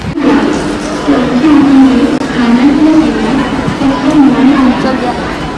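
Dense crowd babble fills a busy D-Mart store, many overlapping voices talking at once, loud and continuous throughout.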